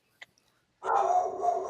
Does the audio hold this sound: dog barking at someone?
yes